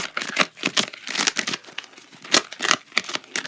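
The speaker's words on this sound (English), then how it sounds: "I'm going to shuffle some more." Tarot cards are shuffled close up in a series of quick, crisp papery riffles and slaps, uneven in rhythm and fairly soft.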